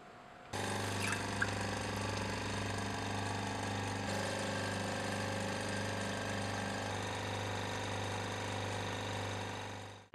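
Vacuum filtration of yellow-brown aminophenol crystals, a steady loud motorized pump hum that starts abruptly and drones on with an even rhythmic throb.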